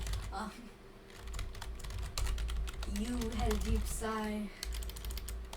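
Clicks from a computer keyboard tap in quick irregular bursts throughout, close and fairly quiet, while people talk over the typing.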